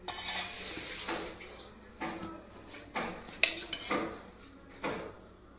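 A spoon stirs and scrapes food in a pot as spoonfuls of ghee go in, giving several distinct metallic scrapes and clinks at irregular intervals over a steady background, close and moderately loud.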